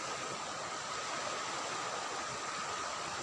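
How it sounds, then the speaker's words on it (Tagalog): Ocean waves at high tide on Magpupungko beach, Siargao island, a steady broad wash of surf with no distinct breaks, fairly faint and continuous throughout. "Maganda yung alon guys kasi high tide na."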